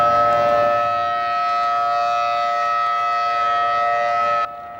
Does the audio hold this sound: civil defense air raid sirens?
yes